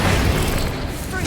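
A Confringo spell in Hogwarts Legacy goes off in a heavy, booming blast with a burst of crackle, brief and loud, with a voice speaking under the noise.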